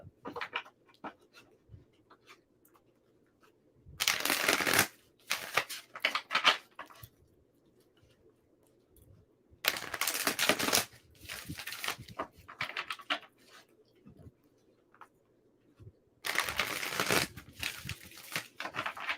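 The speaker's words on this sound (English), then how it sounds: "One more shuffle." Tarot cards shuffled in several brisk bursts of riffling and rustling, separated by quiet pauses, recorded close up with no speech.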